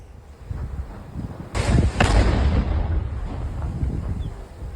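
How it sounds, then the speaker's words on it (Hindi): Controlled detonation of a Pakistani bomb by the army in Rajouri: two sharp blasts about half a second apart, then a loud, broad rumble that lingers and slowly fades, with no voices. "राजौरी में पाकिस्तानी बम को डिफ्यूज किया गया है। सेना ने विस्फोटक का उसे तबाह किया"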